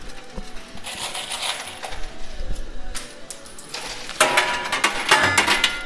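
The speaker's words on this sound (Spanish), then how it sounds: "Eso, acomódense monedas. Acomódense que ahí va mi tirada." Coins clatter and clink inside a coin pusher arcade machine, a continuous jumble of metallic drops and sliding that grows louder and busier in the second half, with no voices.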